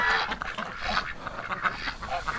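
Muscovy ducks on a winter outing give a run of soft, breathy quacks and honking calls at close range, irregular and overlapping, against low outdoor background noise.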